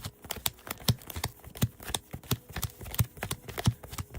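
A deck of Pokemon trading cards being shuffled by hand at close range, in quick, irregular bursts of crisp snapping clicks with short pauses in between.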